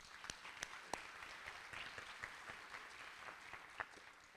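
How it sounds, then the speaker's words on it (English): A luncheon audience at a transit advocacy group's annual meeting in a hotel applauds, heard as a soft, steady patter of many hands from a distance with a few sharper claps standing out. "One more round of applause."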